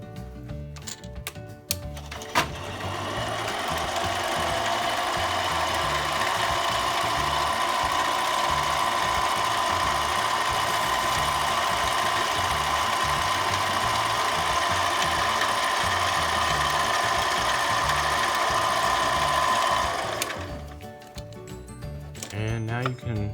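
A Harbor Freight mini lathe, item 93212, hums steadily through a cutting pass for about twenty seconds, motor drone with a faint rhythmic chatter, starting and stopping with clicks at each end, nearby and moderately loud.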